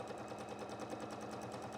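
A home sewing machine runs steadily during free motion quilting of feathers, its needle producing a fast, even rhythmic chatter that continues without pause, fairly quiet and alone.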